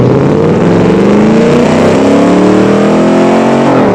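A loud off-road car with a tow hitch revs hard in BeamNG.Drive, its engine note climbing steadily through the gears, close and continuous without talk.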